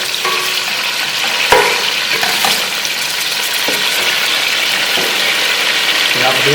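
Beef pieces for nehari fry in hot oil with a loud, dense, close sizzle that runs throughout, marked by occasional clacks of a spoon or pot being stirred.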